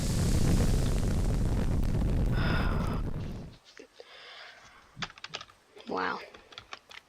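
A fire ignites with a loud broadband roaring whoosh during a Boeing 737 teardown, sustained for several seconds then cutting off abruptly, followed by quieter crackles, rustles and a brief voice.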